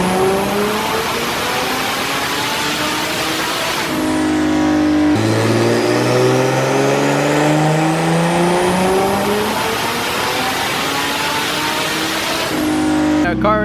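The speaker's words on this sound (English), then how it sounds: "That was the first pull on the dyno." Turbocharged BMW E46 M3 engine on a dyno, roaring loud and close as it climbs steadily through the revs in a long sustained pull, briefly dropping off and then sweeping up again before cutting back near the end.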